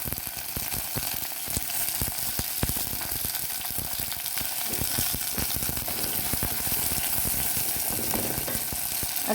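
Chopped onions and tomato sizzle and crackle steadily in a hot oiled pan for a Kerala-style sardine curry, a close, continuous frying hiss with occasional stirring clicks, no voices.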